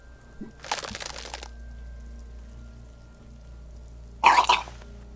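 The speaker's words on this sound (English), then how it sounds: "Your body curls and pushes it out, burst by burst, until a pool of vomit lies under your feet" A character in Disco Elysium vomits in two retching bursts: a gurgling splash first, then after a pause a louder, harsher heave, heard close with no talking.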